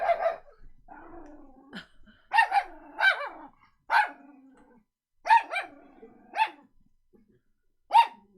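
Rufus the dog barks in a string of sharp, close barks spaced irregularly, with a low growl between them.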